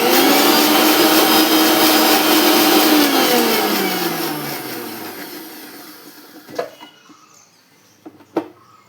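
A mixer grinder blends aloe vera into homemade gel, its loud, steady motor whine filling the first few seconds before it winds down with a falling pitch and goes quiet, followed by a couple of sharp knocks.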